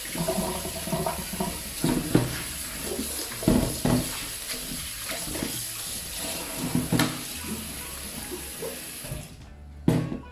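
Kitchen tap running while octopus is cleaned for pulpo a la gallega, a steady close rush of water with irregular splashes and knocks as the flow is broken by hands and the octopus, stopping near the end.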